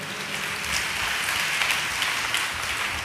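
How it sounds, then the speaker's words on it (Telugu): A church congregation clapping in praise, a dense, steady wash of applause lasting throughout at moderate loudness. "చప్పట్లు కొట్టి ప్రభుని స్తుతించండి కొంచెం గట్టిగా."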